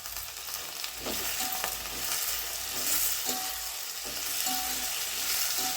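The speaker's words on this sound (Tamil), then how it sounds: "சேர்த்து நல்லா வதக்கிக்கிடுவோம்." Ground eggplant and vegetables frying in hot oil for Chettinad-style sambar rice, a continuous close sizzle with the occasional clink of a stirring spoon against the pan.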